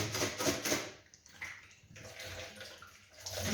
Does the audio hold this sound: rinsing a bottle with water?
yes